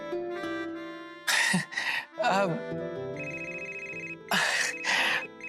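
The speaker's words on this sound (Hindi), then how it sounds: "अब तुम्हारा फोन बजा है" A phone ringtone chimes in repeated bursts, with brief vocal sounds like a throat clear between rings, fairly close and clear.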